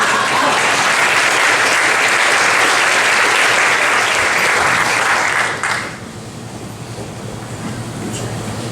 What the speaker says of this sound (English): please give a big warm round of applause for the very funny